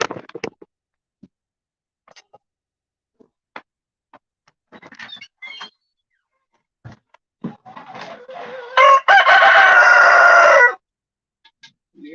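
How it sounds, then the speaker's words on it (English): Farm chickens cluck in scattered short bursts while a rooster crows loudly and close, a long strained call, as the birds wait for corn. "These birds are complaining they want some grains"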